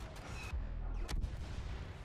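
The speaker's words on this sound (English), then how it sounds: "RB is going to bring the undermounted cannons." Undermounted cannons firing in the Star Wars Battlefront beta, heavy booming blasts with low rumbling tails, two strong bursts close together over a dense battle backdrop, with no talk.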